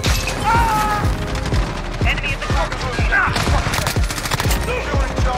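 Rapid automatic fire from an M4A1 rifle in Modern Warfare, a steady string of close, punchy shots in quick bursts running for several seconds, with faint game effects in the background.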